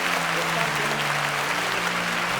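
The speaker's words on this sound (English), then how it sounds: "A round of applause for them." Applause from an audience at the SPAK 5.0 competition show for the contestants, a steady, dense clapping wash over a sustained low musical tone, continuing evenly throughout.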